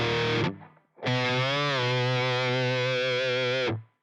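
A heavily distorted electric guitar plays a pre-chorus run in standard tuning: a short chord cut off, then a loud sustained note with a bend and vibrato, ringing out before stopping.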